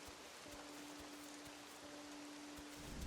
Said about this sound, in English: I woke up to a rainstorm